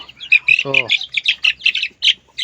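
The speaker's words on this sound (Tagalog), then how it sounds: "Pero meron siyang mga sisiw. Ayan. Ayan sila." Brahma chicken chicks in a backyard give loud, close, rapid high-pitched cheeps in quick bursts, and a short low voice sounds among them.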